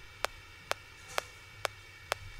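A dry, clicky 808 kick drum hits five times at an even, unhurried pace, each a sharp isolated click with nothing else playing between hits.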